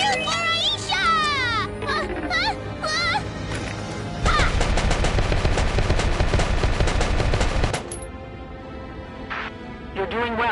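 Rapid gunfire from the video game Valkyria Chronicles bursts loudly mid-clip for several seconds amid game music, with voiced character lines and callouts before and after.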